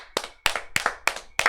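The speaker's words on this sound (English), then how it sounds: "Everybody, round of applause for our readers." Applause for readers at a birthday celebration script reading: five sharp, evenly spaced claps in quick succession, close and crisp, with nothing else heard.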